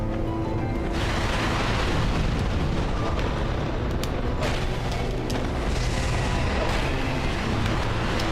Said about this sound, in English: the other one's throwing the explosion